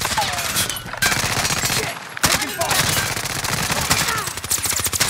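Dense, rapid automatic gunfire in Call of Duty Warzone, nearly continuous rattling bursts with brief gaps, loud and close, with players' voices talking over the shooting.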